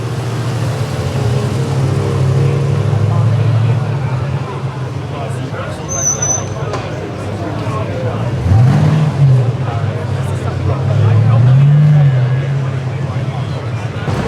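AC classic car at the London Concours 2025 driving off, its engine revving in two clear rises and falls over steady idle rumble, close by, with voices and crowd chatter throughout.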